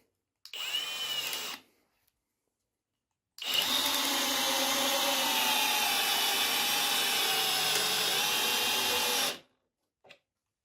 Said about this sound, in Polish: 24 cm długości, fi 10. Zobaczymy, czy damy radę wkręcić taki wkręt.